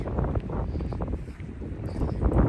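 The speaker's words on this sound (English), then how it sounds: "Can you tell it's a little windy?" Gusty wind buffets the microphone outdoors, a low, uneven rumble swelling and easing at moderate volume.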